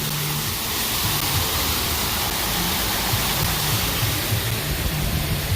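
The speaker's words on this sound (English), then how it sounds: "And look, they have a waterfall here." A waterfall in a park at Southwest Florida Veg Fest, an outdoor festival, gives a loud, constant broadband rush of falling water, steady and close throughout with no voices over it.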